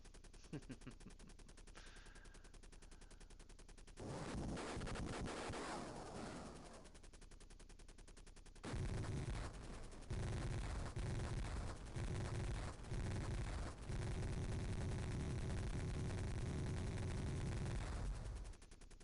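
Sega Genesis Jungle Strike game audio of a helicopter attacking a missile launcher: repeated bursts of rapid gunfire and loud blasting explosions, dense and continuous for most of the stretch with short pauses between volleys.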